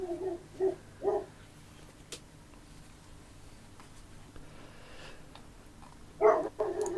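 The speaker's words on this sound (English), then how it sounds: "The doggo barking." A pet dog barks indoors, apparently at a window: three short, fairly close barks at the start, then a quiet stretch, then another pair of sharp barks near the end.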